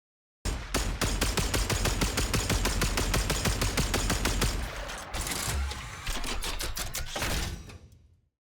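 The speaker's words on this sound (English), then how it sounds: "Both Grattler and Kuva Grattler will shoot explosive projectiles at the enemies." Grattler archgun in the Warframe video game fires explosive projectiles in a loud, rapid sustained burst of heavy thumping shots. A brief pause comes near the end before a final volley fades out.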